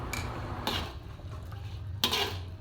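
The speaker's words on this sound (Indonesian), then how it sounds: "Aduk-aduk ya guys sampai larut semuanya." A utensil scrapes and clinks against a cooking pot in a few short strokes, stirring palm sugar into a beef stew, close up, with quiet background hum and no speech.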